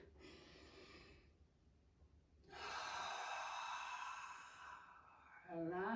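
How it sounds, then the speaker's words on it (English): A big deep breath, a long audible inhale followed by a louder, fuller exhale, heard close and alone, with a short spoken word at the end. "Big breath."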